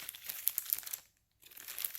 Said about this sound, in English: let me take the plastic off and we'll get started here